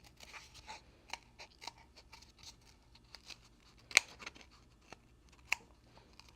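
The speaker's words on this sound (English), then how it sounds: "use some small scissors" Small scissors snip through thin toilet paper roll cardboard, a run of quick, close, crisp cuts at an uneven rhythm, each snip short and light.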